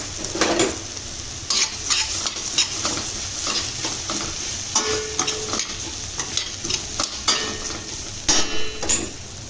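Vermicelli (semiya) is stirred into a pan with onion and tomato for upma, producing irregular scraping and clattering strokes of a utensil over a light frying sizzle, close and fairly loud.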